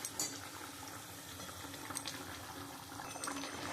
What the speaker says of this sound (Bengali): ঝোলটা ফুটে গেছে, এবার আমি মাছগুলো এক এক করে দিয়ে দেবো।